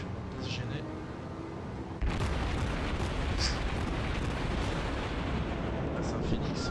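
Naval shells exploding in the World of Warships video game, heard as a dense, continuous roar of booming impacts that swells louder partway through, with a voice talking faintly underneath.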